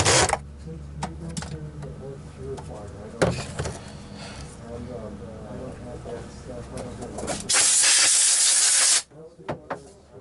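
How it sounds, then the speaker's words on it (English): A loud burst of compressed air hisses for about a second and a half, blowing out the cord reel of a Miele C3 vacuum cleaner, after a stretch of clattering workshop noise. "Making sure to blow out the cord reel."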